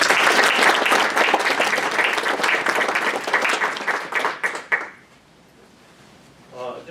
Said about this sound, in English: You can have a round of applause for them also.